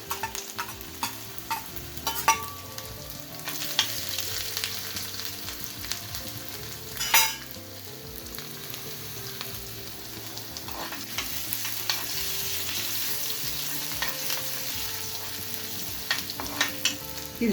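Finely chopped ginger and garlic frying in hot oil for a spicy red momo chutney, a steady close sizzle with occasional stirring clicks and scrapes running throughout, no voices.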